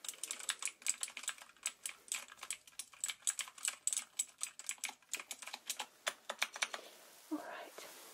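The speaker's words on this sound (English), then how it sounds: "Just type in my findings." Steady, rapid typing on a computer keyboard, close and crisp, with quick key clicks in an uneven rhythm during an ear exam, ending with a brief soft rustle.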